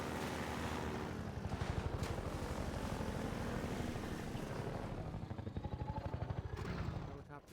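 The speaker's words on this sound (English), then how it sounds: "Helicopter bombing" A combat helicopter over the airboat route in Half-Life 2, its rotor chopping in a steady rhythmic pulse with dull blasts mixed in, sustained and fairly loud before fading at the end; no talking.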